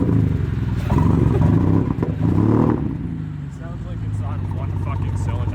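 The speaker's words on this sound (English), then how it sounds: "when your 6-cylinder engine is running on just 1 cylinder" A BMW E90 six-cylinder engine runs roughly on only one cylinder, chugging unevenly up close with a loud, lumpy rumble that fades partway through, with muffled voices underneath.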